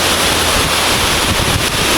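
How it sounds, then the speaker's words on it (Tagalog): Dense, steady roar of heavy rain driven by gusting wind, loud and continuous without a break. "malakas yung ulan dito sa amin at hangin"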